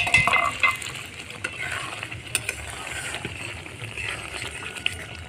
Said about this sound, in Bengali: ভালো করে নাড়তে হবে, নাহলে আবার তলা লেগে যেতে পারে।